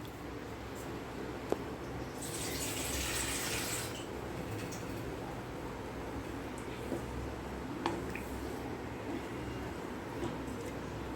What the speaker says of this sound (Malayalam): അതിനകത്തോട്ട് കുറച്ച് നല്ലോണം വെള്ളം ഒഴിച്ച് കൊടുക്കുന്നുണ്ട്